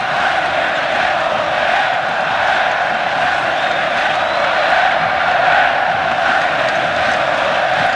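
A large arena crowd roars and cheers continuously at the 1996 Futsal World Cup final between Spain and Brazil, a dense, loud, sustained wall of voices with no break.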